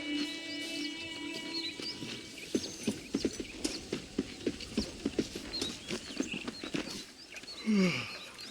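Hooves clip-clop steadily from a horse in the Western video game Red Dead Redemption, a run of distinct rhythmic thuds close by over a faint ambient bed, swelling briefly near the end.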